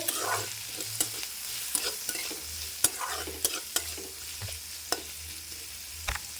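Sliced onions with a pinch of salt fry in a pan for an egg curry. A light sizzle sits under repeated sharp spatula taps and scrapes, spaced a second or so apart.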